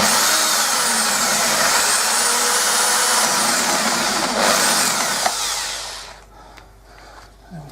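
A loud, steady whirring power tool runs continuously, like a drill spinning, then cuts off near the end, leaving a quieter background.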